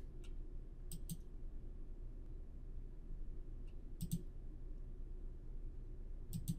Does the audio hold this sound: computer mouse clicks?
yes